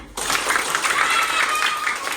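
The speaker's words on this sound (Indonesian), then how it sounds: "Ibu minta kalian untuk tepuk tangan." A fifth-grade class of children claps together on a teacher's cue in the classroom, a short, bright burst of many small hands that starts abruptly and holds steady, with some chatter mixed in.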